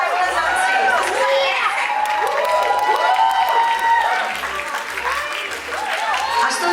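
Audience at a film trailer launch event applauds steadily, a loud continuous patter of many hands mixed with scattered shouts and cheers, dipping slightly near the end.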